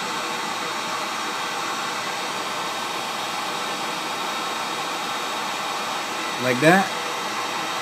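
Steady hiss of a hot air rework station blowing on solder while a USB charging port is replaced, continuous and fairly loud throughout, with a brief spoken remark near the end.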